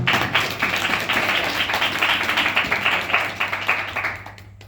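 A church congregation at a Sunday service claps steadily together, a dense, fairly close patter of many hands that fades out at the end.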